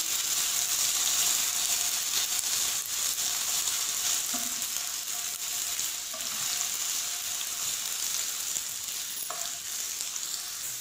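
Sliced potatoes frying in oil for a dhaba-style egg curry, a steady broadband sizzle that stays loud and even throughout with no voices, plus a few faint clicks and light stirring scrapes.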